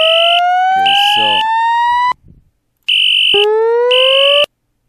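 An electronic fire alarm in a Roblox game sounds in loud bursts, a rising whoop paired with a high beeping tone, cutting out briefly before starting again.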